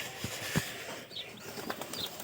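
Pigeons at a dovecote coo softly and flap their wings nearby, with faint rustling flutters and low calls over a quiet village background.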